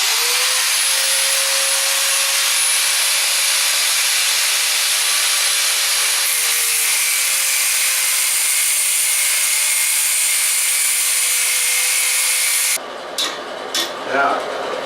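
Power tool cutting off a corroded toilet bolt, a steady high-pitched grinding whine running continuously for about thirteen seconds before stopping, followed by a few short scraping bursts.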